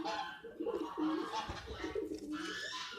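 Pigeons coo repeatedly in soft, throaty, overlapping calls, close by, with a rustle of background noise, beside a loft of yellow-spotted pigeons.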